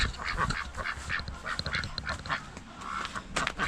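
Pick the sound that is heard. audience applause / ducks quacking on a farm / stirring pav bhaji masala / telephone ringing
ducks quacking on a farm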